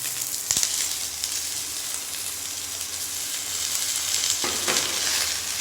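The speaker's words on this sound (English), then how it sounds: "So first we will start with wilting of spinach. So you have to cook the spinach, the fresh spinach," Fresh, roughly chopped spinach sautéing in hot oil in a pan, with a loud, continuous, close hissing sizzle and a couple of sharper crackling bursts as the leaves are moved with a spatula.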